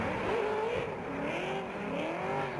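Drift cars, including a Scion tC, run a Formula Drift top 16 battle, with a steady engine roar and wavering pitch through the course, continuous and fairly distant.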